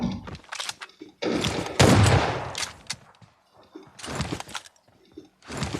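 Gunfire in PUBG Mobile, where a UMP45 is in use: several rapid bursts and single shots come in irregular clusters with short quiet gaps, close and punchy, without talk.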